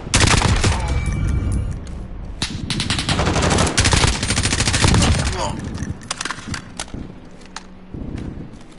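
Commando assault rifle firing in the Call of Duty video game: loud, close bursts of rapid automatic gunfire with brief pauses, thinning into scattered shots and softer footstep-like sounds toward the end.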